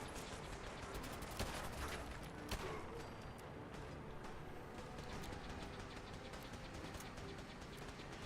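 Gunfire during targeted aiming in Fallout 4, a few sharp shots standing out near the start over a continuous rumbling, clattering background din.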